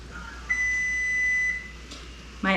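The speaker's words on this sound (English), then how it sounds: "That was the beep you just heard." A kitchen oven gives a single steady electronic beep, lasting about a second, to signal it has finished preheating to 350 degrees. The tone is clear against quiet room noise, with a brief clatter near the end.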